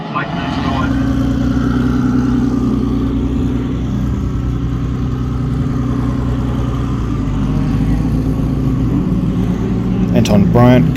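Cup racing cars circle a drying race track at Taupo, with a continuous mid-pitched engine drone as the cars pass, heard under a voice that talks throughout.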